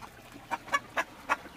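Hens with their chicks cluck softly in a yard, four short, evenly spaced clucks over quiet background, close by and fairly faint.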